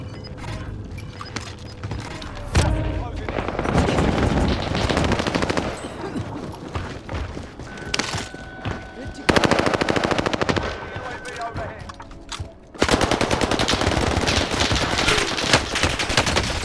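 Rapid bursts of MP7 submachine gun fire in a video game, loud and sustained with brief pauses between strings of shots, other gunfire and game sounds mixed in.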